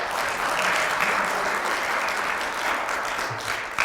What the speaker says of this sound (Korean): 우리 배종민 회장님한테 한번 박수 한번 간단하게